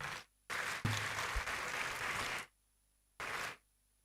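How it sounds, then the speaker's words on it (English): Parents in an audience at an academic year inauguration clap for their children, a loud wash of applause that starts abruptly, holds for about two seconds, stops, then returns in a shorter burst. "I want the parents to clap for their children."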